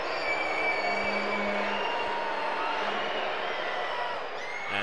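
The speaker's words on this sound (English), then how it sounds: "Listen to this crowd, man." A basketball arena crowd cheers loudly and continuously at an NBL Canada game between the Cape Breton Highlanders and London Lightning, with whoops, a horn-like drone and a brief voice over the din.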